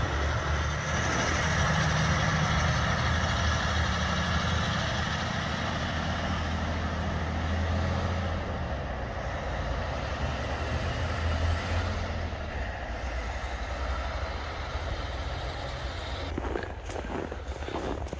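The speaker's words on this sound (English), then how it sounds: "And there's the scrap truck." A scrap metal truck's engine idling nearby outdoors, a steady low rumble holding throughout with faint movement sounds over it and a short clatter near the end.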